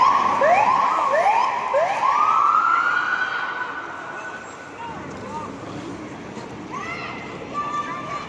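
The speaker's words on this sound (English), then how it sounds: "I'm pretty sure the sirens are just for show" Police sirens wailing at a Black Lives Matter protest in Seattle, several rising and falling sweeps overlapping near and loud, fading and then returning with further wails over a background of crowd noise.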